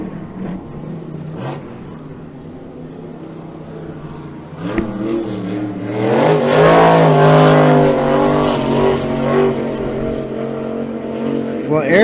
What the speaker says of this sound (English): That boat sounds really good, doesn't it? He's definitely got some horsepower in that bad boy.